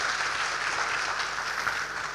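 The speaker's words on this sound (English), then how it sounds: "Give each other a clap." Audience clapping at an HR talent development seminar, a dense steady wash of many hands for about two seconds with no talk over it.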